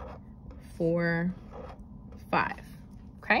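Pen or marker drawing counters on paper: short scratchy strokes, fairly close and quiet, under a voice counting aloud.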